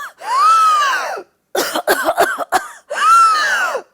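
A person imitates whooping cough: two long drawn wheezing whoops separated by a burst of harsh, violent coughs, loud and close with no other voices.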